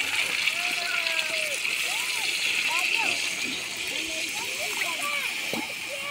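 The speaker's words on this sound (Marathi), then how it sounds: "ते पाणी टाकून घेते." Water is poured into a pot of fish curry as it cooks, a steady close hiss and splash lasting several seconds, with faint chirping and a voice in the background.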